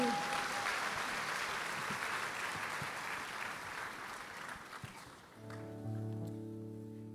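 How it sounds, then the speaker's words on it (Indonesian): Congregation applause in a church, a broad sustained clatter of many hands that slowly fades, then gives way to a steady sustained tone near the end. "Bapak Ibu boleh sekali lagi kita berikan tepuk tangan yang terbaik buat Tuhan Yesus."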